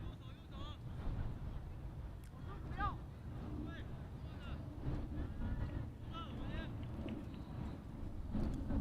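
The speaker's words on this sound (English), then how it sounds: "it's getting windier and windier" Gusty wind buffets the microphone at an outdoor cricket exhibition match between China and the CHK Dragons, a steady low roar running through the whole stretch while commentators talk over it.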